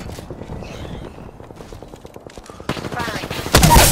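Gunfire in the battle game Apex Legends: bursts of shots that grow louder toward the end, rising to a loud, dense volley, with game sounds and a voice in the background.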